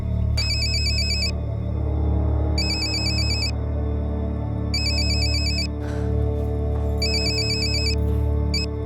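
An electronic phone ringtone plays in four repeated bursts, loud and close, over a constant low background hum.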